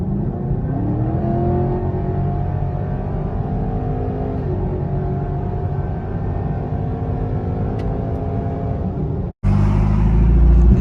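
A sports car accelerating, heard from inside as a loud steady engine drone whose pitch rises through the gears, then cuts out briefly before a sharp surge of noise near the end.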